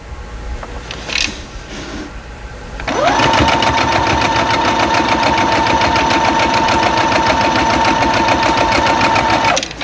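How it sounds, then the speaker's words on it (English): A sewing machine stitches a quilt block, starting up after a few soft handling noises and then running at a steady, loud, even hum with a rapid needle rhythm, close up and with no talking. "I'm just going to sew it, and I will trim it up where it needs to be trimmed up"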